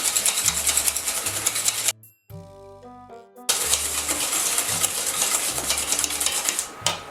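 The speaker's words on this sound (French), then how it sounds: "nous battons les jaunes avec le sucre. Donc on fait blanchir ce mélange." Egg yolks beaten with sugar until pale for a hazelnut floating-island dessert, a rapid rough scraping whir close up that stops briefly midway, then resumes and runs on steadily, no voices.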